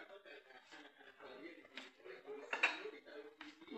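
Plates and dishes clatter and clink while a child cooks an omelette in a home kitchen, with a few scattered knocks under close conversation and a chuckle.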